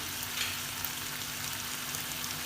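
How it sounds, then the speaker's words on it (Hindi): Chicken frying in a pan with spices, a continuous soft sizzle and crackle at low, even level throughout, with no voices. "चेंज होने तक इसको हम इसके अंदर फ्राई करेंगे"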